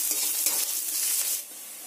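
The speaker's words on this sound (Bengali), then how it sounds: "এই পেঁয়াজগুলো দিয়ে দেব, দিয়ে ভালো করে ভেজে নেব" Garlic, onions and curry leaves frying in a pan give a continuous, bright sizzle with a soft stirring scrape, close and steady, easing off near the end.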